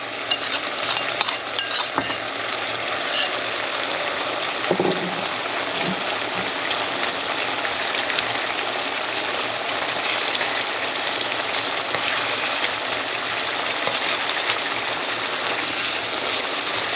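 Garlic frying in a pan with shrimp, tofu and leeks produces a steady, fairly loud sizzle, broken early on by a few clinks and stirring scrapes, with no talking.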